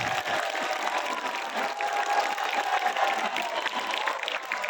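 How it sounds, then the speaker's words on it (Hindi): Audience applauding a school held up as a role model at a Hindi club assembly, steady dense clapping from a crowd throughout, fairly loud and continuous with no break. "मुझे लगता है इसके लिए आप सभी को ताली बजानी चाहिए"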